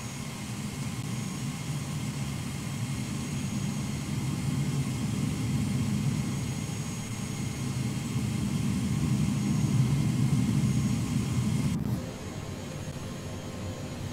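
Airbus A330 at Jeju airport during pushback by a tug, a steady low engine and machinery rumble with a constant whine, holding for about twelve seconds before a sudden click and a quieter hum.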